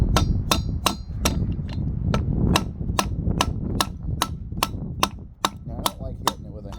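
A hammer strikes metal on a 1936 Oldsmobile car part during fabrication work, giving about sixteen sharp, evenly spaced ringing blows close by over a low background rumble.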